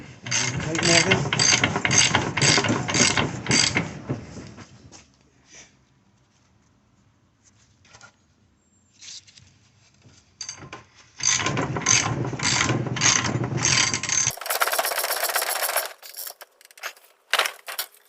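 A ratchet on a 1/2-inch drive adapter tightens the rear ball joint bolt on a Mercedes GL450/ML350 (X164/W163), clicking in two loud rapid bursts separated by a quieter pause, then a higher whirring stretch near the end.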